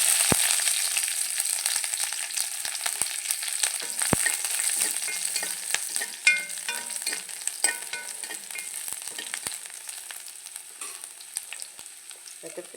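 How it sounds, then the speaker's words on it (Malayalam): Garlic fries in hot coconut oil with crackling mustard seeds in a pan, giving a steady loud sizzle with scattered pops and stirring scrapes throughout, with no talk. "വെളുത്തുള്ളി ഇട്ടെടുക്കാം"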